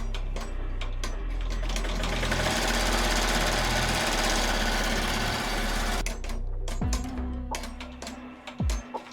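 An embroidery sewing machine stitching fabric, a rapid mechanical rattling hum that runs steadily for several seconds, then stops with a few clicks and thumps.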